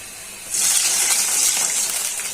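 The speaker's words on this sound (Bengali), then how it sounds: "এখন হালকা একটু জল দিয়ে দিচ্ছি" A sudden burst of loud hissing steam erupts after a brief quiet moment and keeps sputtering, as a little water hits a hot pan of fried onions.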